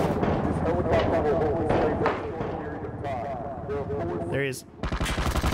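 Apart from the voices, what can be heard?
gunshot from the video game Ring of Elysium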